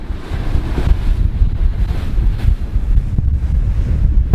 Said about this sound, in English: it is very windy and misty